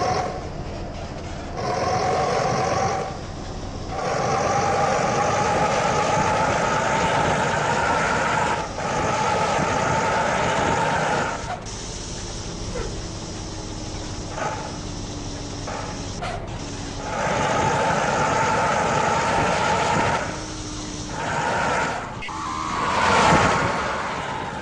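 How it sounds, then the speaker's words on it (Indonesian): A land jet exhaust newly fitted to an office truck roars steadily as the truck drives, a loud, continuous broadband rumble with brief dips and swells and no talking. "suara knalpot jet darat yang baru dipasangkan di truk kantor yang saya bawa saat ini"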